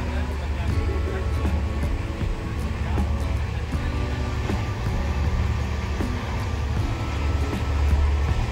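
Inside a moving train, a steady loud rumble carries rhythmic clacks from the wheels and rails, with rattling of the carriage sustained throughout.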